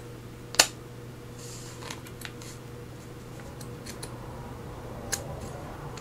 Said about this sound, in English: we're going to just trim this edge. Try not to cut the envelope open.